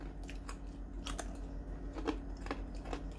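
Crunchy food from a Mexican-style haystack meal being chewed close to the mic, with irregular crisp bites and crackles over a low steady background hum, fairly quiet.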